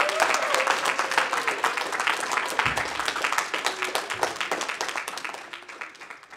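Audience applause at a hymn sing, dense clapping that starts strong and slowly thins and fades over several seconds, with faint voices mixed in.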